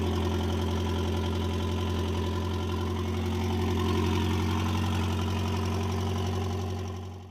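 A classic Mk1 Ford Fiesta engine idles steadily and fairly loudly nearby, a constant low rumble with an even throb that holds for several seconds before easing slightly at the end.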